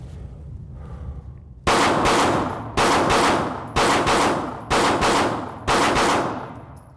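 A pistol fired in five loud, sharp shots at a steady pace of about one per second during a live-fire drill, each crack ringing out close and decaying before the next.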